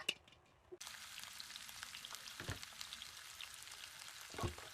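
Butter for chicken majboos starts sizzling in a pan, a steady crackling hiss that begins abruptly and keeps going, with a few louder spits and pops along the way.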